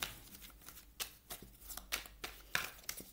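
Morgan Greer tarot cards are shuffled by hand, quiet and close, in a series of short riffling bursts about every half second.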